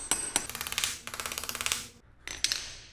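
Hammer blows driving a stud into a roll bar during installation of a rolling bench, a close, loud run of rapid strikes in bursts with brief pauses between them.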